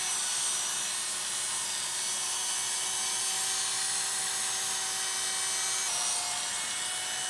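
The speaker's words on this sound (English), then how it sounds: "let that blade come through and trim those hairs down" Electric hair clippers buzz steadily up close as the blade trims hair during a men's pompadour haircut, a continuous high whirring hum that dips slightly in pitch near the end.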